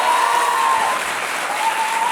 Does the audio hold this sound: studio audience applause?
yes